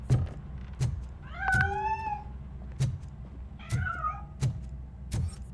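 A cat in the RoboCop video game meows twice while escaping from a piano, the cries rising and falling between several sharp knocking thumps.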